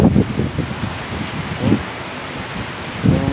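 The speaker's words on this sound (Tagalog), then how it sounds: "Grabe ang lakas ng hangin sa labas" Strong wind roars outside during a typhoon, a steady broadband rush of gusts and buffeting against the microphone, swelling in several heavier surges, with no one speaking.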